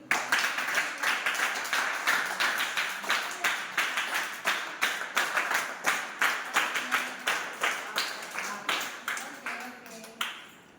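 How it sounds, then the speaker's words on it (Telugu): Children at a school for the blind clap together in a steady, rhythmic beat, loud and close. The clapping carries on for about ten seconds before thinning out and fading at the end. "క్లాప్స్ కొట్టండి."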